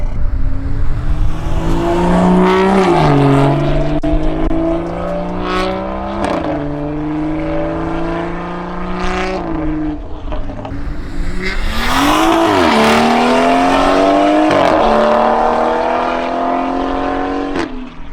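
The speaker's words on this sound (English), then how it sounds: "give you guys some, I guess, drive-by clips with the valves open" A loud BMW F30 340i exhaust with valves open roars past, revving up and down through gears, then builds again in a second aggressive pass.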